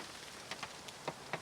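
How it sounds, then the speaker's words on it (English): Light rain falling at a Florida campsite: soft, faint patter with a handful of distinct drops tapping nearby over a quiet hiss. "It's not raining as much anymore"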